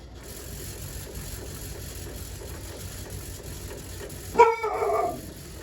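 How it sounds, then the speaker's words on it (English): A dog barks a few times in a short burst from the background, over the steady whir of a large antique Fasco World's Fair oscillating fan running loudly. "Please excuse my dog barking in the background"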